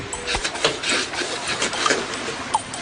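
Dry, scratchy rubbing of a wooden bow drill against wood on an island, irregular strokes close to the microphone, with rasping bursts and no voices.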